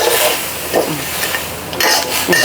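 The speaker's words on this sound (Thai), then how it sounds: "อ่ะน้ำตาลปี๊บใส่ลงไปคั่วให้เขาเหลืองหน่อยเนาะ" Palm sugar is stir-fried in a pan until golden, giving a loud, steady sizzle with scraping stirs and a few louder bursts, close up and without talk.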